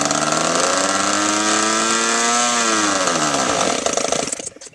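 A small nitro RC airplane engine with no fuel feeding starts with a loud, close, high-pitched whine, bends in pitch and then sputters and dies out.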